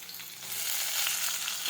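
Chopped tomatoes and dry chili sizzle hard in hot oil while cooking desi urad dal, a bright, steady frying hiss that swells after a brief start.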